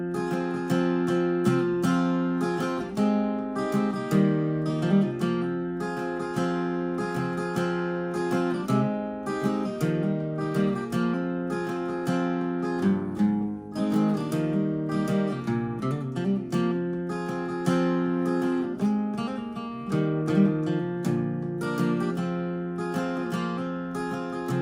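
Acoustic guitar playing the bridge-and-solo interlude of a song, a steady picked melodic passage with ringing chords, continuous and close, no voices.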